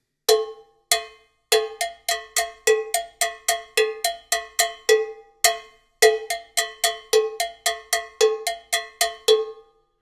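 Mambo bell and bongo bell struck together in an interlocking Latin pattern, a steady run of bright, sharp metallic clanks in repeating phrases with short pauses between rounds, close and clear with no voices.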